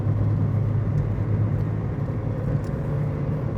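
A Mazda NB2 is driven along with a steady low engine rumble and road roar from inside the cabin, constant and fairly loud, with no talking.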